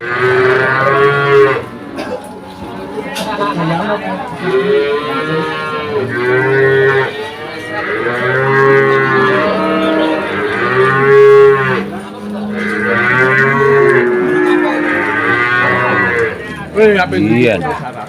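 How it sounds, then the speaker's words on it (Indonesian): Cattle at a livestock market moo repeatedly in long, loud, overlapping calls, several animals lowing close by with faint background voices in between. "sapi"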